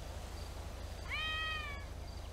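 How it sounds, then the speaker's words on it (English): A big, fat cat in GTA V gives a single clear, fairly close meow lasting under a second, heard alone over steady low background hum. "That's a big kitty."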